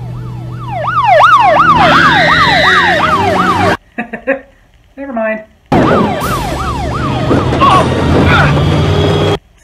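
An ambulance siren wails loud and close in a scene from the action film Maniac Cop 3: Badge of Silence, its rising and falling tone cutting off briefly while people speak, then resuming alongside road and engine noise.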